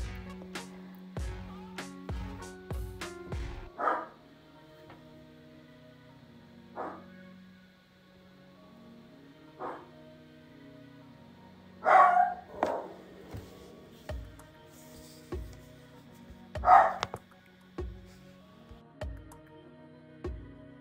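Pet dog indoors barking at someone passing outside the window, a few scattered, muffled barks and yips spaced apart over a steady low hum, fairly faint and with no voices.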